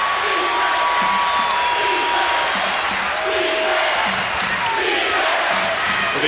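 An arena crowd roars steadily at a 1993 Indiana versus Minnesota college basketball game late in a close contest, a loud, sustained wash of cheering that never lets up.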